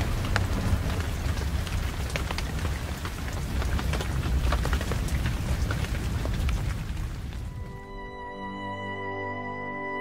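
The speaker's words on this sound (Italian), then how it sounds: "Il temporale improvviso ha fermato il nostro cammino." Rain from a sudden thunderstorm pours down steadily, a dense hiss of drops on surfaces that runs throughout before a tonal sound takes over near the end.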